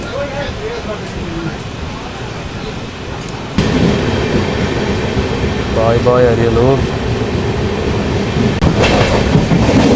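The Pallavan Express runs from Karaikkudi toward Chennai Egmore near Ariyalur, a loud steady rumble of the moving train with wheel clatter, joined by a brief spoken phrase and a louder surge of noise partway through.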